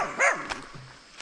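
A dog in Mindoro, Philippines, gives a single short bark followed by a faint yelp, fairly close and brief, with no talk over it.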